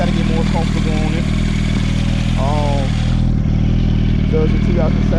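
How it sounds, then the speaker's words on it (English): A 2007 Yamaha R1 sportbike engine drones steadily while riding, with a constant mid-pitched hum under wind noise and a rider's voice talking over it throughout. "So it's a 2007 Yamaha R1."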